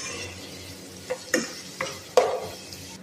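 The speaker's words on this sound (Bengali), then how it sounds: "ভালোভাবে নাড়িয়ে ছাড়িয়ে লাল লাল করে ভাজতে হবে এগুলাকে।" Finely chopped ingredients sizzle steadily in a frying pan while a spatula scrapes and stirs them in four distinct strokes, close and clear with no talking.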